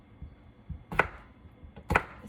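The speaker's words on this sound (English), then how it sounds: "So I'll cut it in half, and then dice it into pieces." A knife dicing food on a cutting board, with two sharp, close chopping strikes about a second apart and a few softer taps in between, heard alone in a quiet kitchen.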